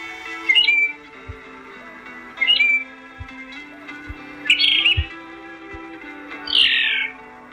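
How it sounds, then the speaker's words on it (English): A phainopepla sings alone in clear, separate phrases, short whistled notes and buzzy calls spaced a second or two apart, with soft low taps between them. "here's a sample of its own song"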